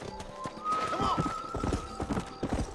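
A horse gallops in the Western video game Red Dead Redemption on Nintendo Switch, close rhythmic hoofbeats with a neighing whinny over them.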